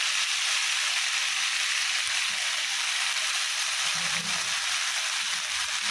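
Coriander, mint, green chilli and coconut sauté in a little oil in a kadai, giving a steady, even sizzle throughout with faint stirring and no voices.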